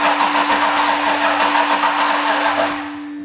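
A crashed Ferrari engine being cranked over by its starter, giving a rapid rhythmic churning with a steady tone beneath it for about three seconds before it stops, without firing.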